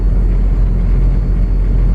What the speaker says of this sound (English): Is the cutout open or is that the wastegate? I feel like that's the wastegate.